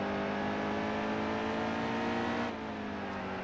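Race car engine in a NASCAR racing video game, a loud continuous whine that drops in pitch partway through as it shifts down a gear, with no talking.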